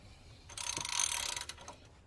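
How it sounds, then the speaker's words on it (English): A ratchet turns the crankshaft of a Subaru 2.5L engine during a timing belt job, giving a short, close burst of clicking that lasts about a second, with no voices. "let's rotate the crank 2 revolution, this crank right here"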